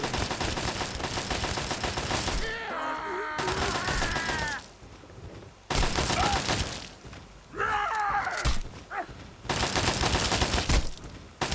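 Super mutants trade heavy gunfire in Fallout 3, with loud bursts of rapid shots in several long stretches broken by brief quieter gaps holding groans and creature cries.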